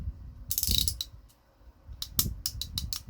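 Stripped plastic gears in a Happy Meal toy, quiet ratcheting clicks in two short bursts separated by a pause, the second burst a rapid run of clicks.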